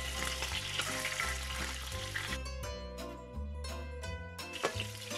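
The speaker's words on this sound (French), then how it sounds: "On met les oignons." Onions hit a hot pan where sausages were just cooking, sizzling loudly and steadily, with occasional stirring scrapes over the constant frying hiss.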